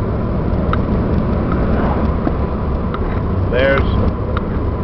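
A Ford Bronco II with a V6 and five-speed manual transmission drives along, its engine droning steadily under loud in-cabin talk, with a brief rise in engine pitch near the end as a gear change is attempted.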